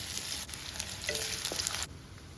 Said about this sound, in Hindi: प्याज को मीडियम फ्लेम पर गोल्डन ब्राउन होने तक हमें भून लेना है।